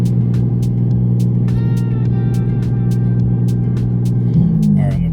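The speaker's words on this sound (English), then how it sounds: "I'm gonna drive around lightly for a little bit to get this fuel mixing out properly" A BMW engine running steadily with a deep, constant drone, heard from inside while driving lightly. Its pitch stays even, then shifts and swells slightly near the end. Faint clicks ride over the hum.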